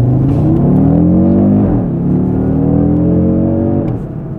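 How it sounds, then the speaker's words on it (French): Audi RS Q3 quattro accelerating hard in RS mode, a loud close engine note rising through the revs, dropping briefly at a gear change, then climbing again before easing off. "un petit coup de gaz et ça part direct quoi"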